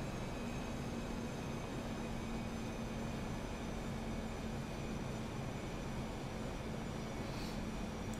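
An Airbus A320 in Germanwings livery descends on an ILS autopilot approach in the X-Plane 10 flight simulator, giving a quiet, unbroken engine drone with faint steady tones and no talk.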